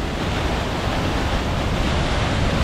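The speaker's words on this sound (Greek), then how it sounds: "Βλέπουμε τον αριστερό καταράκτη όπως κατεβαίνουν τα νερά από την αριστερή του πλευρά." Waterfall at Edessa heard from about twenty metres away, a loud, steady, broadband roar of rushing water with no pauses.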